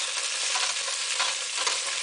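Crabs fry in hot oil in a pot, a dense, bright crackling sizzle running steadily throughout, with faint soft knocks as they are turned, close and without voices.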